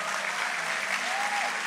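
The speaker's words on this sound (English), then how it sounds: "everyone around you, they're going to applaud as loud as they can" Church audience applauding at a guest speaker's service, a dense, steady round of clapping filling the room.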